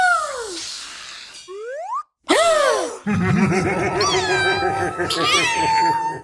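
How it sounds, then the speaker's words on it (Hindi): A cartoon cat meows several times in a children's animated show: rising and falling whines, then a run of wavering cries. Springy sound effects and voices mix in, and the sound breaks off briefly partway through. "देखो हमारी बिल्ली"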